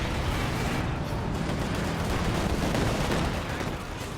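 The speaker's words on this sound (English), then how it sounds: "Katie barrage. Pretty bad scatter on that." Katyusha rocket barrage in Company of Heroes 2, a dense continuous rumble of overlapping blasts and booms, loud and sustained throughout with no voice over it.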